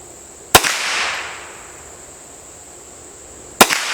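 Two sharp gunshots from a Hi Point 995ts carbine with an upgraded trigger, plinking at cans and bottles outdoors, spaced about three seconds apart, each loud and crisp with a short echo tail.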